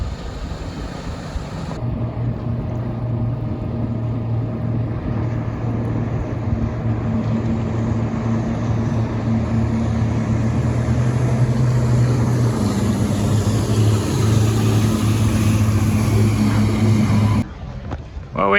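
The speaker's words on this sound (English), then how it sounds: "Got a little traffic on the river too." A steady low engine drone of boats passing on a river, continuous and fairly close, with wind buffeting the microphone and water rushing alongside, cutting off abruptly near the end.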